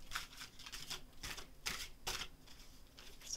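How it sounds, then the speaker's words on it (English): A tarot deck is shuffled by hand up close: quiet, crisp bursts of card riffles and taps in an uneven rhythm, with no talking. "Just a little bit more shuffling here."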